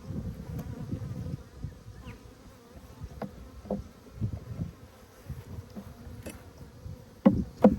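Honey bees buzzing at close range during an apiary hive inspection, a low droning hum that swells and fades with occasional sharp knocks of hive equipment.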